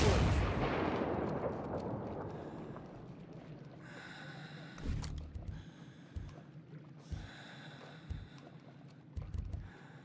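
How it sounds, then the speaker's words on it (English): A grenade blast in the Ghost Recon Breakpoint video game, a loud booming roar that decays over a few seconds, followed by several sharp distant gunshot-like bangs and faint background noise. "Tossing a grenade at him."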